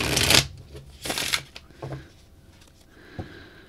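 Tarot cards being shuffled by hand: two crisp riffling bursts close up, followed by softer card taps and settling sounds, with no talk.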